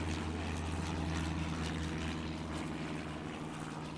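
A steady, droning propeller-plane engine from an air traffic control video game, an airplane holding a constant tone as it starts its takeoff roll, with no talk over it.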